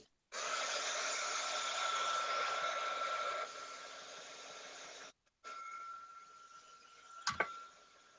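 A hair dryer drying artwork during a live art session blows as a steady, loud whoosh, drops to a softer setting partway through, cuts off briefly, then runs again.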